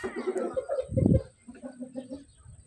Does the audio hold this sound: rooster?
yes